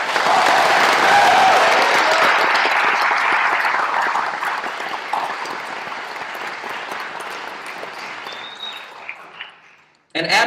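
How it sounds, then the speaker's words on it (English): Sustained applause from an audience honoring an honorable mention at a tutorial presentation, dense clapping that starts full and gradually thins over ten seconds before stopping abruptly. "if you will please give a round of applause for this year's honorable mention"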